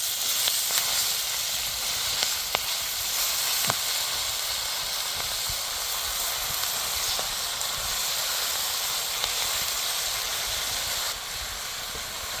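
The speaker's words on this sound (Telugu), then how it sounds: "ఫ్రై అయిపోయింది కదండి, ఇప్పుడు పాలకూర వేసేస్తున్నాం." Spinach (palak) frying in a pan gives a steady, even sizzle and hiss throughout, with occasional small pops and no talking.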